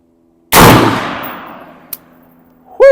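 Unsuppressed rifle firing a single loud, sharp shot that rings out and fades over a second, followed by a small click and then a bright ringing tone at the very end.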